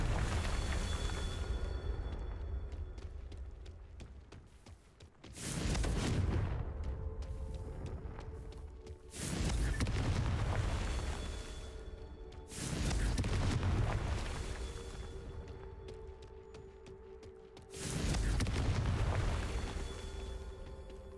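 Four heavy Confringo spell explosions in Hogwarts Legacy boom out one after another every few seconds, each a loud rumbling blast that decays slowly into a quieter background hum.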